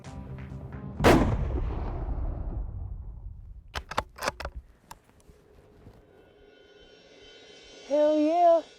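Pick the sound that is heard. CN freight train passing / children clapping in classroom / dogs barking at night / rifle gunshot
rifle gunshot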